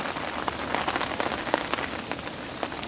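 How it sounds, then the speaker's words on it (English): Rain falls steadily on a boating lake and the gear around it, a continuous soft patter with scattered sharper drops, fairly quiet and with no voices. "It's raining."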